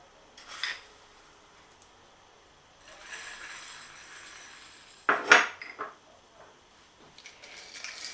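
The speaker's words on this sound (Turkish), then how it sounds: "Kavanozları doldurduktan sonra üzerine şöyle bir yemek kaşığı tuz ekledim." A tablespoon adds salt over filled jars of watermelon pickle, giving a few scattered metallic clinks and scrapes of spoon on glass, with one sharper knock in the middle and quiet gaps between.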